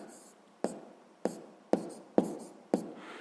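Pen strokes tap and scratch on paper as a math answer for a sixth-grade exercise is written down, five or six distinct short scrapes spaced roughly half a second apart, close and quiet with no voices.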